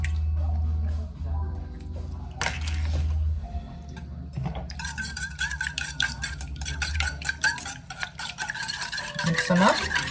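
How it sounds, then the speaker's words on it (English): Eggs for basil cheddar scrambled eggs are whisked in a bowl: a low hum gives way to rapid, rhythmic clinking and scraping of utensil against bowl, close and busy, building toward the end. "And now I will get the eggs into the bowl so we can get them all mixed up."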